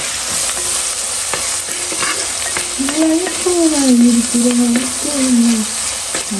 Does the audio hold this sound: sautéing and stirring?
yes